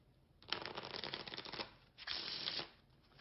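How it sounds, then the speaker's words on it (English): Riffle shuffling of a deck of playing cards: two quick, close, crisp bursts of fluttering card flicks, separated by a short pause. "Now, I'm going to shuffle these cards."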